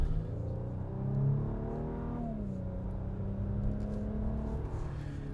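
A 2025 Infiniti QX80 Autograph drives along, its engine holding a steady hum that rises and dips gently as it changes speed, with broad road and tyre noise underneath and no speech.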